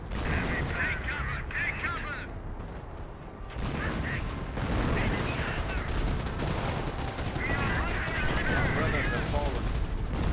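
Panther tanks fire in the WWII strategy game Company of Heroes amid dense battle noise. Machine-gun chatter and booming cannon shots come thick and steady throughout, with artillery mixed in.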